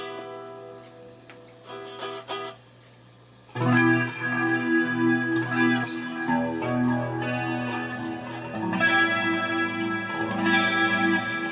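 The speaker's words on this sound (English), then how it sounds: "I've got this flashback turned on a light echo" An electric guitar plays through distortion and a light Flashback echo. A few quiet picked notes give way to sustained, repeating chords with trailing echoes and no talking.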